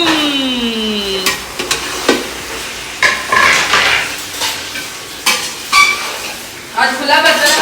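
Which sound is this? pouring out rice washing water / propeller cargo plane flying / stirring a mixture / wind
stirring a mixture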